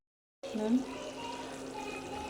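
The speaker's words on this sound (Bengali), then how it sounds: "পানি হচ্ছে দিয়ে দিচ্ছি ঢেকে" Water is poured into a cooking pot on a village stove while chicken curry cooks. A steady, moderately loud pouring rush begins abruptly after a brief silence and continues evenly to the end.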